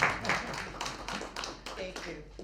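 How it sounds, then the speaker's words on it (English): Applause at an awards ceremony for a board member, a dense patter of clapping hands in a room with talk over it. "Give her, please, a big round of applause"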